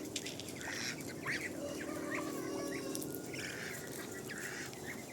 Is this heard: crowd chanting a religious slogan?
no